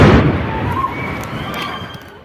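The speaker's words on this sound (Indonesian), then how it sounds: "Ledakan bom di Istanbul, Turki." A bomb explosion in Taksim, Istanbul goes off with a sharp loud boom that decays into a rumbling, ringing aftermath, with faint distant cries and commotion.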